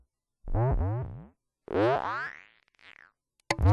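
Korg MS-20 synthesizer notes with pitch-sweeping, boing-like tones sound in short bursts separated by silences while the envelope sustain is tweaked, the later note decaying differently from the first.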